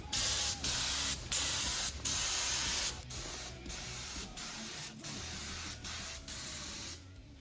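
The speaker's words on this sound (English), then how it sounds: "We sprayed the filler." Paint spray gun applying filler coat to a rusted Land Cruiser body repair, loud hissing bursts in a steady on-off rhythm, long pulses at first then shorter regular passes, close and alone without talk.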